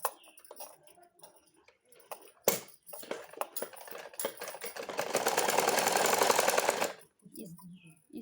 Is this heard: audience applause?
no